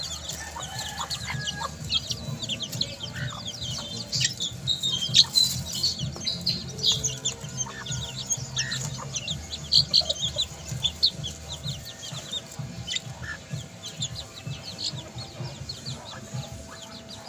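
Chickens and chicks cluck and chirp continuously in a yard, with a dense chorus of high peeping chicks over lower clucking hens and a possible distant rooster crow.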